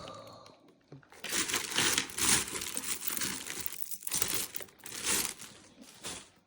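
Busted plastic bag from a gem fair being opened, loud close crinkling and crumpling in bursts with brief pauses between handling.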